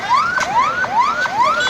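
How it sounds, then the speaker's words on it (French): Ambulance siren from an ambulance stuck in market traffic, a loud, close wailing tone sweeping upward again and again in a quick repeating cycle, heard alone. "une ambulance, elle est coincée au niveau du marché de la capitale"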